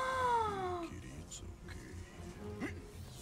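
A cat's long, drawn-out meow falls in pitch in the Spider-Man: Miles Morales video game, followed by a few fainter mews and short sounds over soft game ambience.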